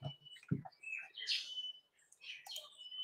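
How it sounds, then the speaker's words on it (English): Several birds chirp and tweet in a hot outdoor setting in the Philippines, a run of short bright calls that come and go over about three seconds, fairly faint and with no talking. "Birds are chirping here, guys."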